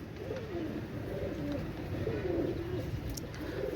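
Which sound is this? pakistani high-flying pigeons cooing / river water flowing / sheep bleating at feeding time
pakistani high-flying pigeons cooing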